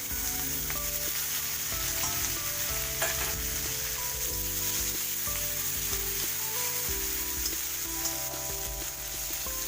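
A medium onion fries in a pan of hot oil with cardamom, cloves and cinnamon. A steady, close sizzle runs throughout under background music, with no one speaking.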